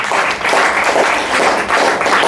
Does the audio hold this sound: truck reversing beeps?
no